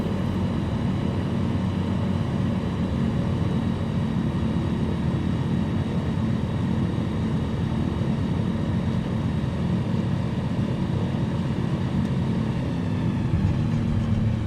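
A Savage Cub light aircraft engine on landing approach, with throttle added, gives a loud, steady propeller drone that runs unbroken and close throughout, with no voices.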